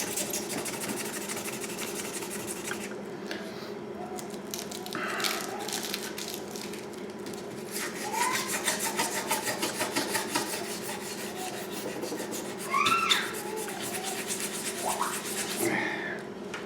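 Rusty sword blade being scrubbed clean, giving a steady harsh rubbing and rasping noise throughout, with louder scratchy bursts and a few sharp squeaks, no talk.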